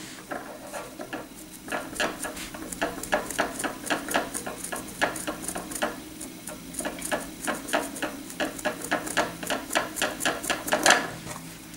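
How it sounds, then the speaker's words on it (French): A crochet hook working yarn makes a steady series of small, sharp clicks and taps, close and fairly crisp, in an irregular but continuous rhythm. "le crochet, hein, c'est bruyant"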